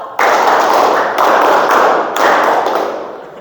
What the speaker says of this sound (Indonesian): Coba deh, tepuk 1.